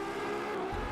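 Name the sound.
car engine accelerating in Driveclub video game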